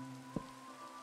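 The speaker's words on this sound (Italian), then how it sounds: "Funziona con la pioggia." Rain falls steadily in Minecraft, a faint, even hiss with a soft thump near the start.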